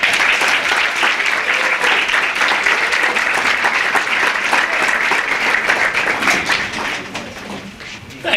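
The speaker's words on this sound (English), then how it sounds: "Clap it up for Brother Carl." An audience at a Hartford mayoral campaign announcement claps for the next speaker, a loud, full, crackling round of applause that runs for several seconds before tapering off near the end.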